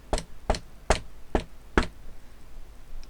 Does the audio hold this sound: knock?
yes